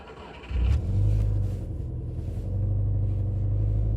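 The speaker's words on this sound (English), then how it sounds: "So we start the vehicle." A Subaru car engine with a manifold gasket issue cranks briefly and catches, then settles into a steady low idle rumble, close and loud.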